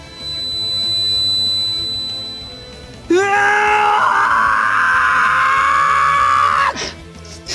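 A character in the visual novel Dies irae ~Amantes amentes~ lets out a loud, sustained scream. It bursts in after a quieter tonal passage, holds for several seconds and cuts off abruptly.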